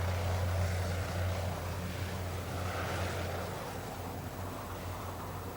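A light aircraft fades into the distance over Antarctic mountains, its drone steady and low beneath a wash of wind, gradually growing fainter.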